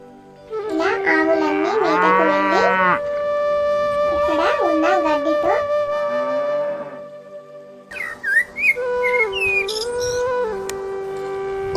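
Cows moo in long, drawn-out calls as a story sound effect, several overlapping lows in the first half, then more mooing with whistling tones toward the end, loud and close.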